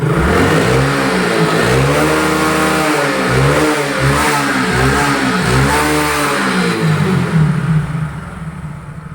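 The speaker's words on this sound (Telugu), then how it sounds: "నేనైతే ఇప్పుడు ఎక్సలేటర్ ఇస్తున్నాను" A 2016 Hero Glamour motorcycle engine is revved with the throttle, rising and falling in repeated loud surges close by before easing off at the end.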